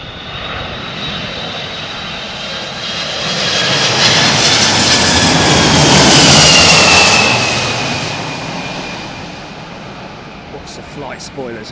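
A jet airliner approaches and lands in gusty crosswinds of up to 34 mph, its engine roar swelling to a loud peak near the middle and then fading, with a whining tone throughout.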